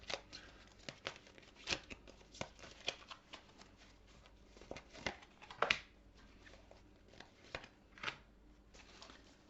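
Tarot cards being shuffled by hand, a run of soft riffling flicks and papery slaps at an irregular rhythm, close and fairly quiet, with no talking over them.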